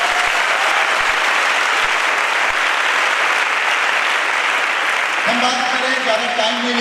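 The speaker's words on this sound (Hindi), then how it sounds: "उन सभी अचीवर्स के लिए ताली होनी चाहिए।" Loud, continuous audience applause for achievers at a corporate speech event, a dense wash of clapping with a few voices and tonal sounds surfacing near the end.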